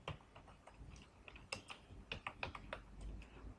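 A computer keyboard is typed on while a word is entered into a Blogger website's form: soft, irregular key clicks in quick bursts, quiet and close, with no talking.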